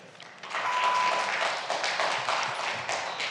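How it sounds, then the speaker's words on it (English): Audience applause at a city planning commission meeting in West Hollywood, a dense wash of many hands clapping that swells in after a quiet start and holds steady at moderate loudness in a large room. "please hold your applause"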